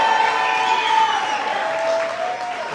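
A crowd cheers and claps steadily, a continuous wash of applause with raised voices, fairly loud and close throughout.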